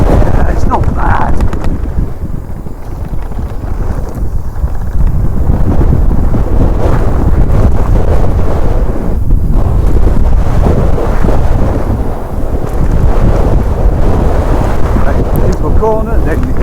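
Gusty wind roars across the microphone during a mountain bike ride on forest trails at Glentress, a loud continuous low rumble that swells and dips, with faint rider talk mixed in.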